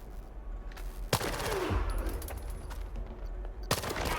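Gunfire in the video game Stalker 2: rapid bursts of automatic fire with sharp loud shots, a heavy boom midway and a low rumbling tail, continuous across the scene.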